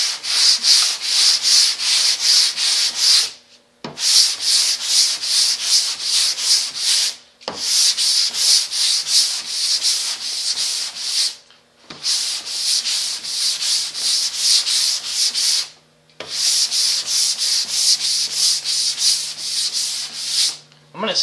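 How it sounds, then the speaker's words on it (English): Hand sanding with a 27-inch sanding board and sandpaper: long, loud, hissing strokes in five sustained bursts, each lasting a few seconds, separated by short pauses as the board is repositioned, with no voices over it. "I'm going to sand a lot in this area with this 27-inch board"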